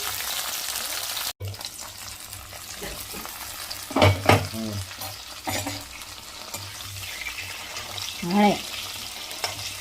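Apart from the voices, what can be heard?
stuffed bitter gourd sautéing in a pan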